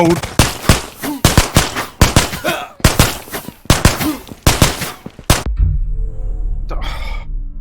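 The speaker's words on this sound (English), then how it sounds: "And then the guard shot and killed me." A guard in the VR shooter Ghosts of Tabor fires a rapid series of about a dozen loud, close gunshots, which end in a low rumbling aftermath.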